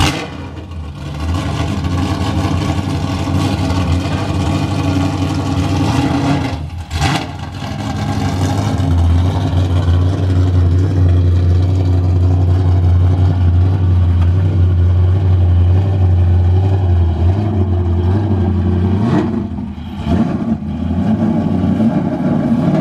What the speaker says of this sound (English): Let's unload the car and then I'll back the trailer back.